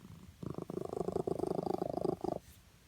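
A pet cat purring close to the microphone, a steady rhythmic rumble of rapid pulses lasting about two seconds, heard alone in a quiet room.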